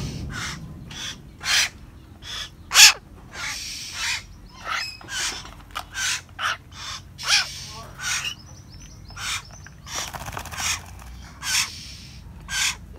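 Young hill mynas from Dak Lak call repeatedly while bathing, a series of sharp, loud, close squawks and whistles spaced at irregular intervals over faint background noise.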